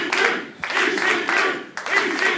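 A wrestling arena crowd applauds at an NWA Powerrr event, with loud bursts of clapping and cheering that swell and dip in waves.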